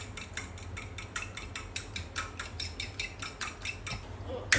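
A utensil beats a batter mixture with milk in a bowl, a quick regular run of clinking and scraping strokes close by, steady and without pause for several seconds.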